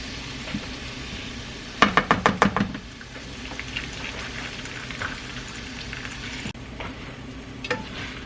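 Vegetable enchilada filling frying in a pan, with a short burst of sharp clattering stirring knocks near the start over a steady low sizzle that carries on alone.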